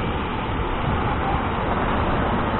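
A motorcycle rides along an empty road near Chakdah, a steady, loud broadband rumble of engine and wind noise that holds constant throughout without pauses.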